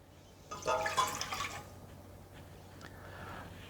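Whole milk poured into a pan set on a warming stovetop burner for cooked eggnog, a soft liquid splash and trickle lasting about a second, close by and fairly quiet against a low steady hum.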